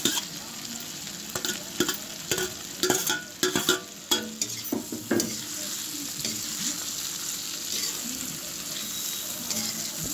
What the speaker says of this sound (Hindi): अब इसमें हम डालेंगे भिंडी फ्राई करी हुई